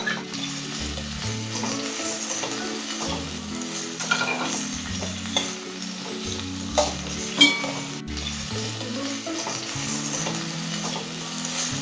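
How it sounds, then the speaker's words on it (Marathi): Sliced onions frying in oil in a pot for a paneer masala gravy, a dense crackling sizzle throughout with repeated stirring scrapes and a few utensil knocks. "हे जे मोठे कांदे कापून घेतलेत उभे ते आपण यामध्ये घालूया।"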